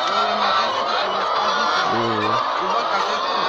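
Several chickens cluck and squawk in short bursts over a constant background hum, one louder cackling call standing out midway.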